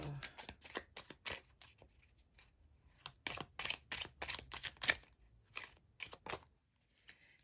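Tarot cards are shuffled and drawn in a series of quick, crisp riffles and flicks in irregular bursts, close and quiet, with no voices.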